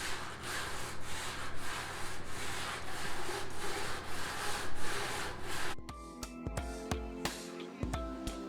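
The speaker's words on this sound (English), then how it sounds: "Try to get these edges straight right here while I'm sanding." Oak hand-sanded with 120-grit sandpaper wrapped around a block, rubbing steadily back and forth in a close, rhythmic rasp, then a few sharper knocks and scrapes at the end.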